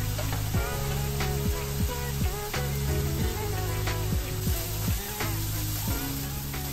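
Sausage sizzles and crackles steadily in a hot pan as it crisps, a dense continuous frying hiss with small pops, close by and with no talking.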